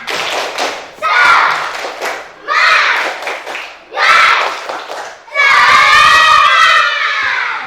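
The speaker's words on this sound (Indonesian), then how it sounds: "ayo tepuk semangat" Schoolchildren in a classroom perform a rhythmic cheer clap together, loud bursts of group clapping and shouted chanting in short sections, ending in a sustained loud shout from the class.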